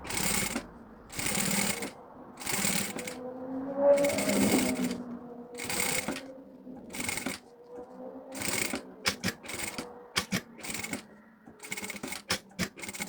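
A sewing machine stitches slowly in short, regular bursts separated by brief pauses, with a soft rustle of fabric between runs and no talking.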